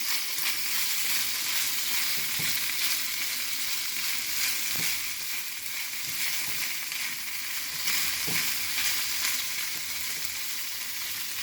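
Chopped onions seasoned with salt and pepper fry in olive oil with a loud, steady, close sizzle that runs throughout, broken by a few faint knocks.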